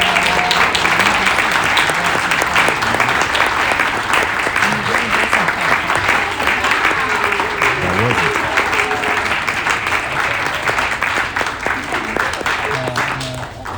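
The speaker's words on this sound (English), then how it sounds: "Round of applause." An audience claps steadily through most of the span, broad and fairly loud, with talk and a few voices mixed in underneath as it carries on.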